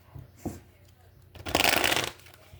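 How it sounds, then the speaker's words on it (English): Tarot cards are shuffled up close in a short riffling burst, preceded by a few soft handling taps and card movements. "we're going to do 3 shuffles"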